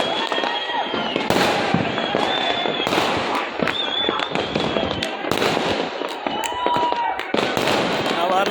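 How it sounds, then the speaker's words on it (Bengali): Fireworks celebrating RCB's IPL win burst around a cricket stadium in a dense, continuous barrage of bangs, cracks and whistling rockets, some near and some distant, overlapping throughout. "যাক আপনাদের বাজি দেখাই, এই দেখেন বাজি বাজি।"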